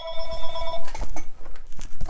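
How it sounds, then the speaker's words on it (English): Telephone ringing indoors near a watercolor painting session, a short tonal ring in the first part followed by soft brush and paper patter. "Excuse the phone."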